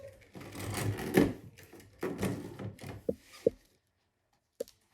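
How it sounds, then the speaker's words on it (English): A spiral binding machine punching holes through a stack of homeschool book pages gives a run of mechanical clunks and rattling strokes, fairly close and moderately loud, then a pause and one last sharp thunk. "So this is a spiral binding machine."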